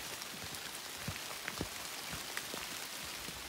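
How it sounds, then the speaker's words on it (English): Rain patters steadily on the West Coast Trail, with scattered distinct drops striking close by over a soft, continuous hiss, fairly quiet and with no talking. "What do you think of the rain?"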